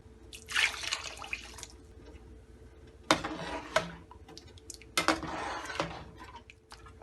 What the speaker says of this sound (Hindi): 2 कप पानी और डालेंगे।